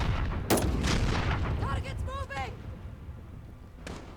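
Gunfire rings out in Call of Duty: Modern Warfare, a loud close shot followed by a rumbling blast and tail, then a second sharp shot near the end. Ringing metallic game effects sound in between.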